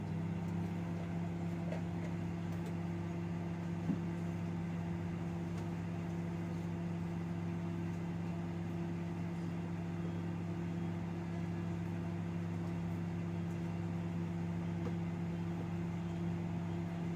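A microwave oven hums steadily while heating water, a low constant drone with an even tone and no break, fairly quiet and heard alone.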